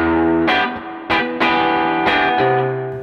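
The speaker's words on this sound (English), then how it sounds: "I notice that when I push the overdrive, the notes remain articulate, the low end feels great." An electric guitar played through an overdriven Fender Hot Rod Deluxe amp rings out about five distorted notes and chords in turn, each struck sharply and left to sustain, loud and alone.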